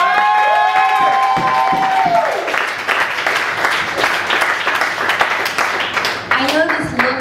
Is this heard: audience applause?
yes